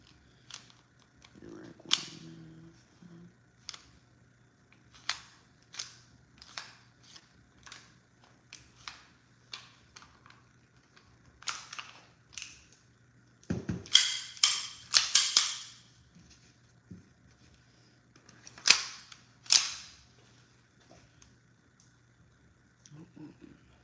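A full-blowback SIG-licensed airsoft pistol fires BBs in a long series of sharp, snappy cracks, some single and some in quick pairs, set against a quiet room with a low hum and brief handling noises.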